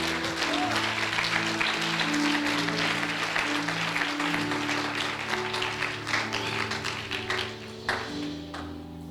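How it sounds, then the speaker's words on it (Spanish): A church congregation gives sustained applause to the Lord, clapping steadily over a held organ or keyboard chord that shifts notes, the clapping thinning toward the end. "Denle un fuerte aplauso al Señor."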